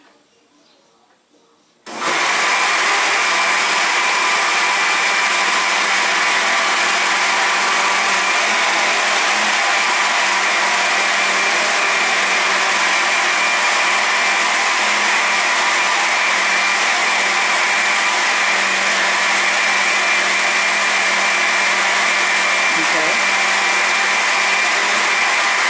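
Blender mixing a milkshake, switching on abruptly after a moment of near silence, then a loud, steady motor whir with a bright high hum that runs unbroken and close for over twenty seconds.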